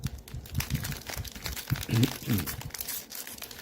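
A biscuit tin package from a money-safe promotion being opened: close, crinkly crumpling and tearing of plastic wrapping in irregular bursts, with a few louder crunchy rustles near the middle.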